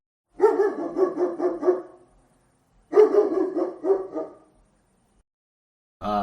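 A dog barks in two quick bursts of several sharp, close barks each, separated by a short silence.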